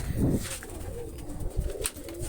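Low, muffled pigeon cooing nearby amid a noisy background with scattered knocks and rustles.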